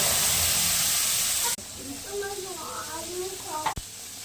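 Black cumin, a dried chili and chili paste go into a hot pan with a loud, steady hiss that later settles into a softer sizzle while a voice talks.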